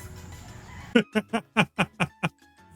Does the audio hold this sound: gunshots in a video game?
no